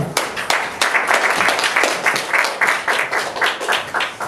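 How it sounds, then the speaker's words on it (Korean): A symposium audience gives a speaker a loud, sustained round of applause, many hands clapping densely and evenly from start to finish. "큰 박수로 환영하겠습니다."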